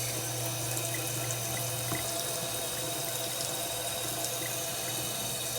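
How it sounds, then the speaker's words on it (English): Water runs steadily from a kitchen sink tap over a refrigerated egg being rinsed, a continuous close splashing hiss with no talk. "I'm very interested to see what happens when I rinse him off"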